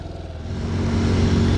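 A Honda C125 Super Cub motorcycle pulls away along a country lane, its small engine note rising and steadying as it picks up speed, close and fairly loud.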